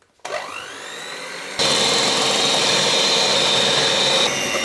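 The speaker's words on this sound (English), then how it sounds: "I'll whisk it again with my electric whiskers" An electric whisk starts up and whirs steadily through cream in a glass bowl for a pavlova, then jumps to a louder, harsher buzzing drone that holds to the end, with no voices.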